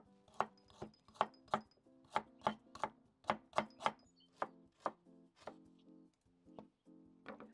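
Knife chopping burdock root coarsely on a board, about fifteen sharp close thunks in an uneven rhythm, each with a short woody knock, alone with no talking.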